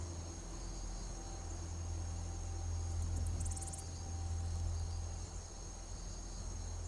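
Crickets chirp steadily in Skyrim, a quiet continuous trill under low background hum, with a brief brighter burst of chirps near the middle; no one speaks.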